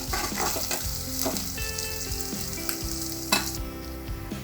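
Onions, green chillies, curry leaves and dried red chillies fry in hot oil in a pan for a coconut curry, giving a steady close sizzle and crackle with light stirring clinks and no voices.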